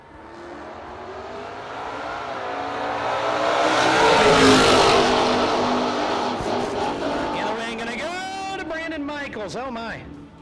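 A Camaro race car accelerates down the drag strip at a no-box drag racing event, its engine roar swelling loudly then fading into the distance, with an announcer talking excitedly over it and throughout.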